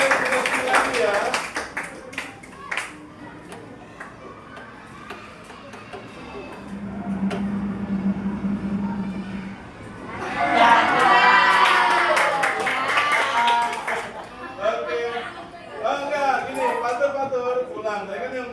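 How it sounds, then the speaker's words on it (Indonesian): A group claps hands together for a participant during a classroom teacher-training workshop, a burst of dense applause lasting a few seconds, mixed with lively voices and chatter around it. "tepuk tangan dulu buat Patur"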